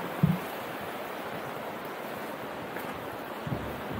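A flooded river rushes steadily under a bridge in Warburton, a broad, even roar with a couple of faint knocks near the start.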